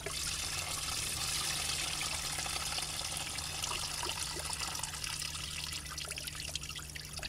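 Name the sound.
coolant leaking and trickling onto grass from a BMW E36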